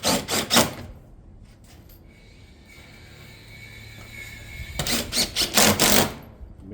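A power driver sets fasteners through shingle ridge caps into the front, side laps and back header over a ridge vent, with two close bursts of rapid rattling hits separated by a quiet pause.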